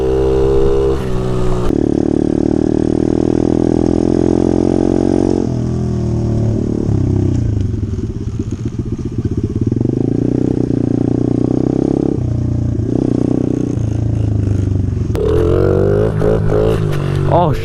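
A dirt bike engine runs loud and close on a cold outdoor ride, with the note sagging and bogging down in the middle before picking back up, and brief revving bursts at the end.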